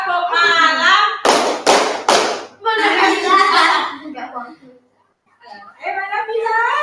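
Children in a classroom doing the 'tepuk malam' clap routine, a few sharp, loud rhythmic claps in a short burst between stretches of a teacher talking and kids chanting.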